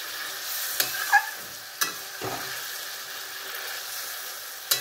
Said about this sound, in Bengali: এবার মাছগুলোকে কিন্তু আমি ফুটতে দেবো।